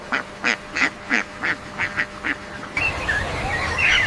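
A duck gives about eight loud, rhythmic quacks in a quick series, then the calls break off into brighter, noisier bird chatter and background sound.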